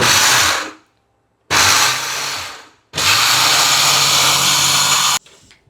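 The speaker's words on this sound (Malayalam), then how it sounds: "ഇത്രയും മിക്സിയിൽ പൊടിക്കാൻ പറ്റും." A kitchen mixer grinder pulverises Vietnamese black rice into puttu powder in three loud, close bursts: two short pulses, then a longer run of steady whirring, with brief pauses between them.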